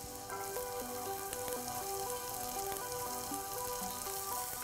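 Chopped ginger and onion fry in a pan with a steady, close hiss of sizzling oil, running under background music with a stepping melody.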